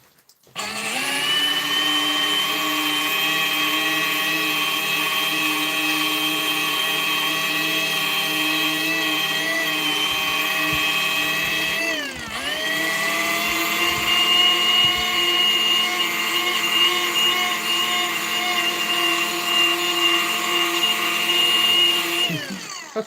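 A Flex D3 polisher motor bogs down as it digs into a sponge pad while refurbishing a Honeywell Turbovisor helmet: a loud, steady high whine with a strong harmonic drone, dipping briefly in pitch midway before resuming, with no talk.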